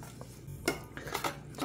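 Seasoned amaranth greens tossed in a bowl, with light clinks and scrapes of utensils against the dish and soft wet stirring, close and fairly quiet, no talk.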